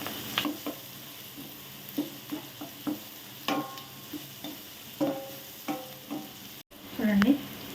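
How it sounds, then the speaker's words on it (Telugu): Onions fry with salt in a pan for a chicken liver curry, giving a soft steady sizzle broken by a dozen or so short scraping stirs at an even rhythm, close and fairly quiet with no talking. "సాల్ట్ వేస్తే ఉల్లిపాయ తొందరగా వేగుతాయి"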